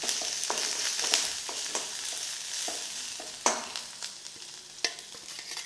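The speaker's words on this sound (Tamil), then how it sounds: "கருவேப்பிலை எல்லாம் சேர்த்து வதக்கிடுங்க எண்ணெயில் வதக்கும் வதக்கும்போது" Oil sizzles steadily with a frying hiss as garlic, coriander and curry leaves sauté for tomato rasam, broken by scattered stirring clinks and scrapes of a utensil in the pan; no voices.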